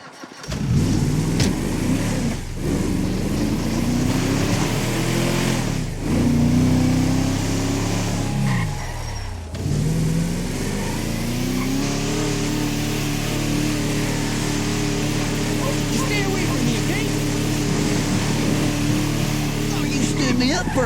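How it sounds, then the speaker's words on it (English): A car engine in a video game drives along, its tone rising and falling as it revs through gear changes, then holding a steady drone, loud and close. "Now drive us up to that abandoned motel."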